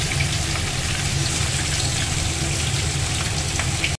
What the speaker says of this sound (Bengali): মা খুব সুন্দর করে আলুগুলো একটু বাদামি রং করে ভেজে নেবে